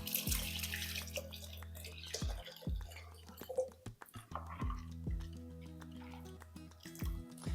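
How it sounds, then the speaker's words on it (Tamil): Prepared rasam is poured into a cooking pot in a home kitchen, liquid splashing and dripping in uneven bursts and trickles with a steady low hum underneath, close and fairly quiet. "சேர்த்துட்டு நம்ம கலக்கி வச்சுருக்க இந்த ரசம் இதையும் எடுத்து இதில் சேர்த்துக்கலாம்."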